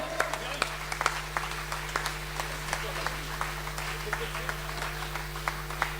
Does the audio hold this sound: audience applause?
yes